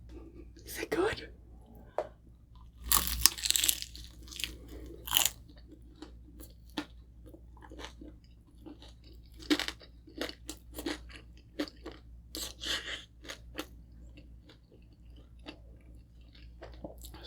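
Crunchy bites and chewing of a crispy roasted Cebu-style pork belly roll with crackling rind, dipped in liver sauce, close up, with repeated crisp crunches and quiet mouth sounds between bursts of talk.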